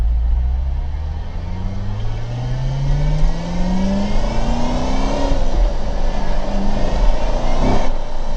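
A flood-damaged C7 Corvette, freshly revived, revs while driving, its engine note climbing steadily in pitch through a long pull, loud and close with continuous road and wind roar.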